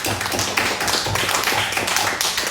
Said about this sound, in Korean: 우리 박수 한번 크게 칠까요?